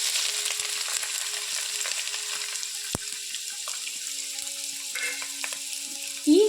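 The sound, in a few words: squeezed bitter gourd frying in oil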